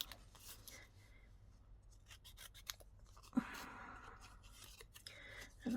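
Scissors snip through craft paper pieces being cut into tabs, giving a few close, quiet crisp cuts and rustles spaced unevenly apart, with no talking.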